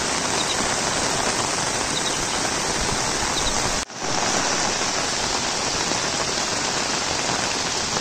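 Heavy monsoon rain pours steadily in Konkan, a dense, loud, unbroken hiss on surfaces that drops out for a split second before resuming at full strength.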